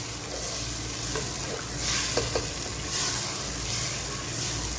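Tomato puree being stirred into a sizzling mutton handi, with soft scraping strokes of the spoon over a steady background fry and sizzle, close but fairly quiet.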